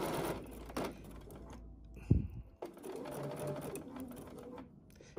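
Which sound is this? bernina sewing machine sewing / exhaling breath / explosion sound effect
bernina sewing machine sewing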